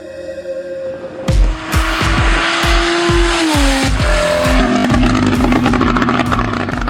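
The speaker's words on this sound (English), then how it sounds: "his Porsche 911 Turbo with a custom exhaust, which sounds like a freaking F1 car" A high-revving Porsche 911 Turbo with a custom exhaust screams up through the gears with rapid shifts and popping exhaust, loud and close, then settles into a steady roar.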